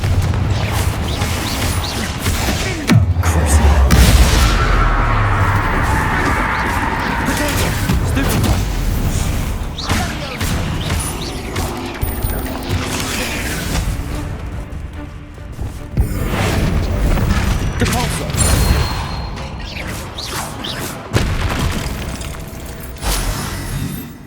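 Confringo fire spells in the game Hogwarts Legacy set off repeated booming explosions and crashing blasts. The bursts come in loud waves over a busy background, with quieter gaps between the heavier hits.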